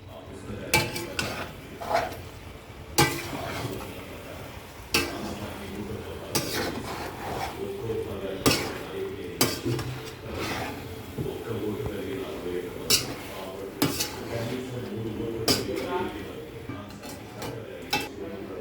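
A pot of chicken fry curry being stirred, with irregular clinks and scrapes of a utensil against the metal pot, close and moderately loud, while a voice talks over much of it.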